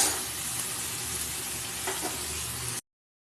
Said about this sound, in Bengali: এটাকে বেশ কিছুক্ষণ নেড়ে নিতে হবে আর যাতে আলু আর বাদবাকি সবজিগুলো আছে ভাজা ভাজা হয়ে যায়